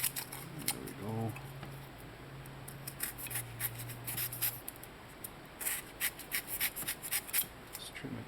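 Scissors trim a sheet of paper close by, a run of quick crisp snips and rustles that gets denser toward the end, with a voice speaking briefly early on.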